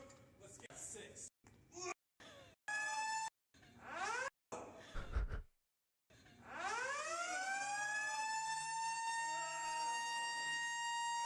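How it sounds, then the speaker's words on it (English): Video game gym lunk alarm siren wails loudly in rising, sustained tones after choppy bursts of game noise, heard on a game stream. "Where's the lug alarm? Where is it? Set off the alarm."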